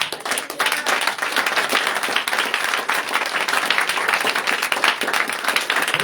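A church congregation applauds continuously, a dense and loud crackle of many hands clapping together that holds steady throughout.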